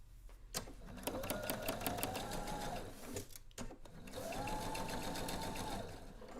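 Sewing machine stitching a seam with two long continuous runs of steady mechanical whirring, separated by a brief pause, close and clear with no talking.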